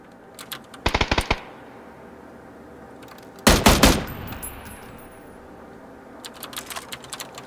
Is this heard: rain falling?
no